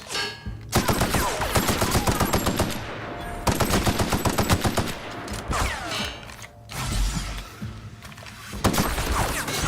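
Rapid automatic gunfire in the video game The Outer Worlds 2, several long bursts of fast shots separated by brief pauses, with mechanical clicks and clatter between volleys.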